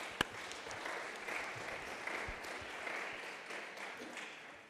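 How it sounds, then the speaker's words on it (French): Faint applause from a small audience at a poetry gathering, a soft, steady patter of clapping preceded by a single sharp knock near the start. "Là, je vous applaudis."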